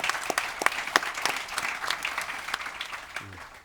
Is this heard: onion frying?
no